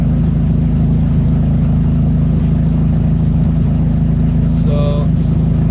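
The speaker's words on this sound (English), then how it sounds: "pulled the sail back in and turned the motor back on" The outboard motor of a sailboat on a river, running again after the sail is pulled in: a loud, steady low engine drone, with a brief higher tone near the end.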